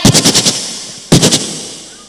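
A voice imitates the gunfire of enemy weapons in wartime, making two loud, close, rapid rattling bursts like machine-gun fire, the first longer, separated by a brief pause.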